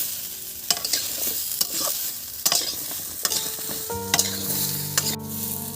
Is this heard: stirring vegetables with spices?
yes